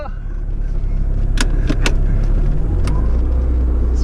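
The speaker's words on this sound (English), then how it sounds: "I'm driving a Lancia." A Lancia Delta Integrale's engine runs close by, steady and moderately loud, with a few sharp clicks and knocks from the cabin partway through.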